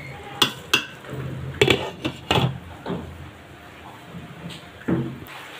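A rice cooker pot of pilau is handled and covered with its lid, giving several sharp metallic clinks and knocks, some close together, spread over a few seconds in a quiet kitchen.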